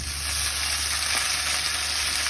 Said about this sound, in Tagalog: Gisa lang natin ng konti yung patatas.